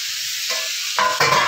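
Green peas and green chilies hit a hot pan with a loud, close sizzle that swells in two quick steps over a short moment, with no voices.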